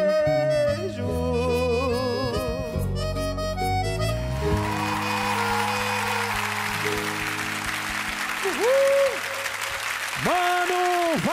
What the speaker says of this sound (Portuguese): A gente aplaude, mano.